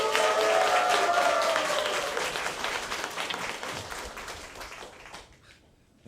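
A church congregation at a youth worship service applauds warmly: a dense wash of many hands clapping, steady and full at first, then thinning and fading toward silence, with faint voices mixed in.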